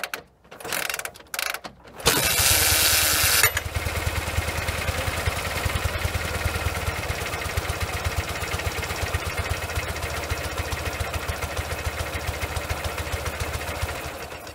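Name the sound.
rebuilt Ural motorcycle engine running at idle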